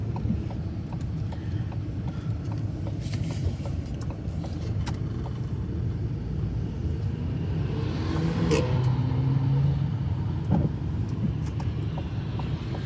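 Car moving slowly along a snowy road during a blizzard, a steady low interior rumble with faint road crunching and occasional clicks, heard from inside the vehicle with no talking.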